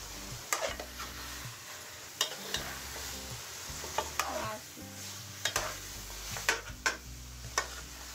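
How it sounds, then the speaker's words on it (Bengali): Mutton trotters (paya) frying with spices in a pan, a steady close sizzle broken by repeated scraping stirs and clinks of a spoon against the pan, no talk. "এখন এই পায়াগুলোকে আমি ভালো করে ভুনা করে নেব।"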